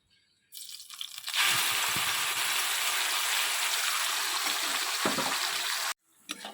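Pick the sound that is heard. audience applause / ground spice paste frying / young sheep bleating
ground spice paste frying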